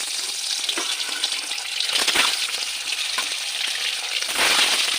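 An egg frying in oil in a pan (kadai), with a steady, close, bright sizzle and crackle throughout and a brief surge in the last second, and no voices.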